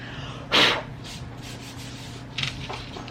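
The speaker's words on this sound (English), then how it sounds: "You're rubbing the paint." A brush or cloth rubbing wet paint across a wooden family sign, one firm close scrubbing stroke followed by fainter, scattered rubs.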